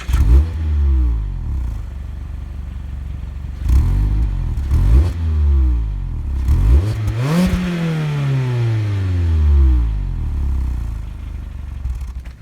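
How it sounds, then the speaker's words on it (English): A 2019 Mazda MX-5 Miata's engine idles and blips through several short revs, then climbs into one longer rev that winds back down, close and fairly loud. "Let's hear how this car sounds and take this thing on a drive."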